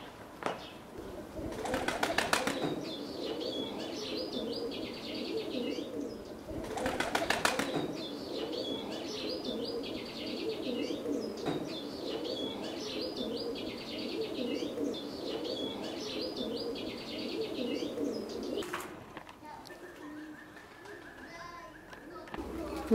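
Tbilisi fighting pigeons in flight during spring, with two bursts of sharp wing-flapping claps over a steady background of bird chatter and cooing, then a quieter stretch.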